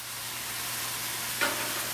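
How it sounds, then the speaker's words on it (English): Green pepper for rasta pasta being stirred in a hot pan, a steady close sizzle of frying with a brief scrape of the spoon near the end. "this is the pepper in it right now. Stirring."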